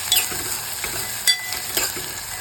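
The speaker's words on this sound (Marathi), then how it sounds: "आपण कांदा घालून घेतला आहे जरा छान असा गोल्डन होऊ दे कांदा परतून घेऊया" Chopped onion sautéing in a hot pan for Malvani kulith pithi, a continuous loud sizzle with a few sharp scrapes of stirring.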